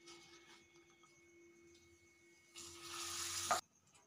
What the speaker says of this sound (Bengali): সব পাঁপড়ের টুকরোগুলোকে ভেজে নিচ্ছি